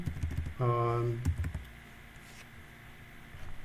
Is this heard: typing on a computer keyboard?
yes